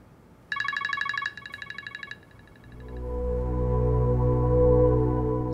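A phone call being dialed: a quick run of bright keypad beeps, a second shorter run, then a rising low electronic hum as the line connects, with no voices.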